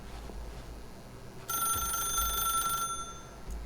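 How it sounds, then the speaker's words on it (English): A telephone rings in The Stanley Parable, one sustained electronic bell burst of about a second and a half starting midway after quiet room tone, loud and close, with a faint click near the end. "then pick up the phone."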